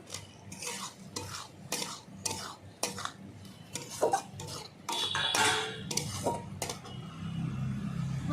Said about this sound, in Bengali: ভেজে রাখা আলুগুলো দিয়ে দেবো